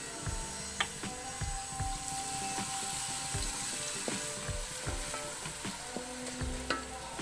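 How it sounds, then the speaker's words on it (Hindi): Onions browning with garlic paste in a pan while cooking a fish kadai: continuous close sizzling and frying, with the scrape and clatter of a spoon stirring at irregular moments. "अब इस प्याज को मैं ब्राउन कर लूंगी।"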